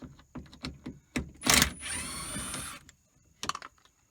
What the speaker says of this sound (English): you can take these T30 screws out one at a time